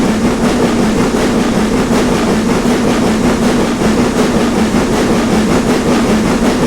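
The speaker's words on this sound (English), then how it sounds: "hearing one of the locos really struggling up this hill, because you can hear it like that" A heavy steam locomotive in a train simulator game labours steadily up a hill on the North York Moors Railway with a continuous rumbling chuff and rail clatter, loud and close, with no voices.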